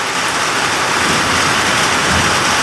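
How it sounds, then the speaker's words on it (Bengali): Heavy rain pours down in a dense, constant hiss that stays loud and even throughout, with no voices. "প্রচণ্ড পরিমাণে বর্ষা হচ্ছে"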